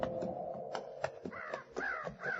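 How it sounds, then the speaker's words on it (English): Several crows caw from the trees in a canyon at sunset, giving a series of harsh, moderately close calls in an irregular rhythm over a faint background. "Those crows ain't flying. Figure they're sitting in the trees waiting for a handout."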